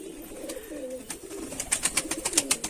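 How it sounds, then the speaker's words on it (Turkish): Pigeons in a backyard coop coo in low, rolling calls, followed by a rapid run of light tapping or flapping bursts, all close and clear with no talking. "Şöyle bir güvercinlerimize son durumuna bakalım."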